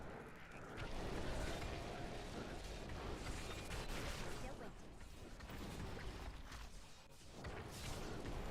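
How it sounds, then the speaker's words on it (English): Molten explosions in an action video game crackle and boom as a dense, continuous wall of blasts and debris that stays loud throughout, with brief dips between bursts. "those molten explosions"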